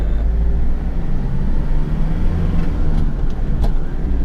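A Mitsubishi Fuso Canter B85 light truck drives along, its engine and road noise a steady, loud rumble with no pauses.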